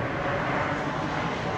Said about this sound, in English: start off with Southwest Flight 808536 from TUL, Tulsa, Oklahoma